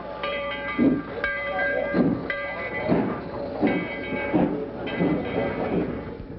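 Tweetsie Railroad steam locomotive number 12 runs along its 3-mile track, giving steady rhythmic chuffing with hissing steam and a bright ringing bell repeating overhead, close and continuous.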